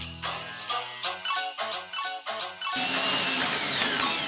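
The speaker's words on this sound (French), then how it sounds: "La disqueuse." An angle grinder cuts into a glass light bulb, starting after a stretch of music with a sudden loud, continuous harsh hiss and grinding that holds steady and close to the end.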